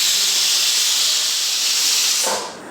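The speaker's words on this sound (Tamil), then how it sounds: "5 விசில் வந்துடுச்சு, ஆஃப் பண்ணிடலாம்." A pressure cooker cooking mutton vents steam through its whistle, giving a loud, steady, close hiss that holds for over two seconds before quickly tapering off.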